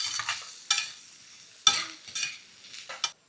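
Peas are stirred with turmeric, chilli and coriander powder in a pan, producing about five separate dry scraping strokes with short quiet gaps, close and moderately loud with no strong sizzle.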